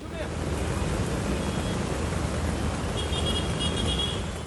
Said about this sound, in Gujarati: રસ્તા પર પાણીનું જબરદસ્ત વહેણ જોવા મળ્યું